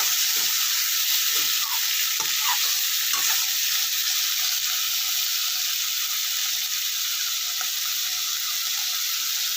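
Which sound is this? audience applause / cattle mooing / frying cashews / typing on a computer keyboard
frying cashews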